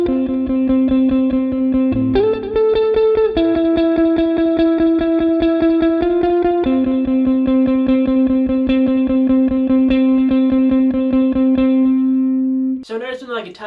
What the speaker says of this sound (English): So our first guitar part sounds like this.